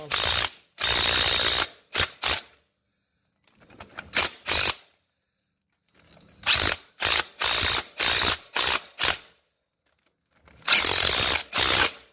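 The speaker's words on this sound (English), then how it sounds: "And then we get nuts, we'll tighten those up." A ratchet wrench clicks in quick bursts while nuts are tightened during an LS1 engine swap into a 1955 International Harvester COE truck, several rapid runs of ratcheting separated by silent pauses, close and crisp.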